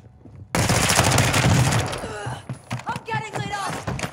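Rapid automatic gunfire in Warzone 2 erupts in a loud sustained burst for about a second and a half, followed by scattered shots and game effects while players talk.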